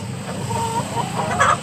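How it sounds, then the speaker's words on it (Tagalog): A crowd of chickens clucks close by in a busy, overlapping chorus, with a few sharper calls rising near the end over a steady farmyard background. "Ayan tol, sobrang dami ng manok tol."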